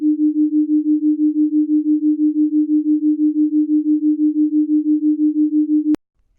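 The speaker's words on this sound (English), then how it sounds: "the interference we call beating" Two close sine tones interfere to produce steady beating, a loud, pure low hum pulsing evenly about five times per second for six seconds before cutting off abruptly.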